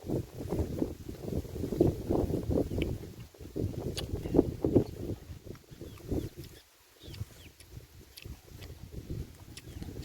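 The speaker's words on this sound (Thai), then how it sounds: "ยินแต่เสียงลม" Wind blowing outdoors beside a pond, gusting in uneven rumbling surges against the microphone with brief quieter lulls and faint clicks.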